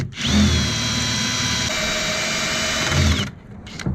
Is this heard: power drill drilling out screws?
yes